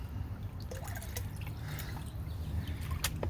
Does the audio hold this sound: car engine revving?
no